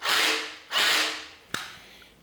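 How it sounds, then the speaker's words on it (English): A drill on low gear turns the oil pump to prime a Ford 302 roller-cam engine, giving two loud sustained whirring runs of about three-quarters of a second each, then a sharp clack and a quieter tail. "So I got the drill on low gear so it turns slow"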